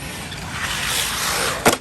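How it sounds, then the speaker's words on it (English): A Traxxas Rally RS200 RC rally car drives nearby with a steady electric motor whine that builds, then ends in a sharp knock or bump near the end. "New Traxxas rally car."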